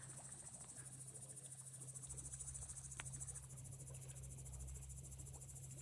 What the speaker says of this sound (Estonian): mingid rohutirtsud ja veekohin